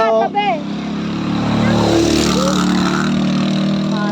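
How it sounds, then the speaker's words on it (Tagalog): Motorcycles climb an uphill mountain road on the way up Mount Balagbag, a loud, steady engine drone with rising revs that lasts the whole stretch, and a brief voice is heard near the start. "lakas naman ng motor nila"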